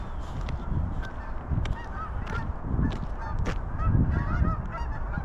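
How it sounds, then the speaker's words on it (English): A flock of Canada geese flies over a snowy winter park, honking continuously in overlapping calls at moderate distance, with no voices. "There's a flight of Canadian geese."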